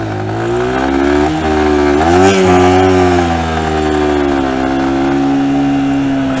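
Motorcycle engine revving hard and steady after the automatic transmission kicks down, a loud close-up droning roar with a brief pitch rise near the middle, then holding high revs on the road.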